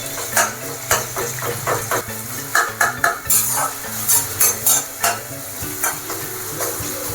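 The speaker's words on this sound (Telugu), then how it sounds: "ఆనియన్ మెత్తబడేంత వరకు ఫ్రై చేసుకుంటే సరిపోతుంది" Onions, green chillies and curry leaves fry in hot oil for a fish curry, with a steady sizzle broken by repeated scraping stirs of a spoon in the pan. It sounds close, with no talk.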